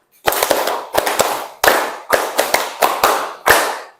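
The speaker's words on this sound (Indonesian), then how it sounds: "Tepuk tangan 5 kali 2 kali." In a teacher training session on positive school culture, a group claps in unison through a rhythmic patterned sequence of about a dozen sharp, loud claps in short clusters, each ringing briefly in the room.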